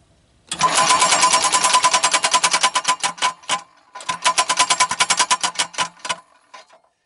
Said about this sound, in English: you turn the key switch on, you put power to it, you don't have to hit the pedal, the motor goes around